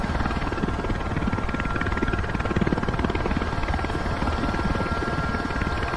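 Helicopter in Microsoft Flight Simulator 2024, a Robinson, heard from outside as a steady, loud rotor and turbine drone with a continuous chopping pulse, unbroken for the whole stretch.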